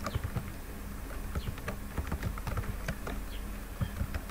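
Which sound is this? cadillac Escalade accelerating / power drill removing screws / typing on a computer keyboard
typing on a computer keyboard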